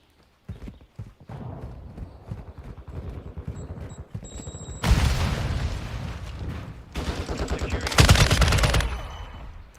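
A hard-hitting gun firing in Call of Duty Modern Warfare II, bursts of rapid automatic shots in two loud stretches amid scattered clatter and battlefield noise.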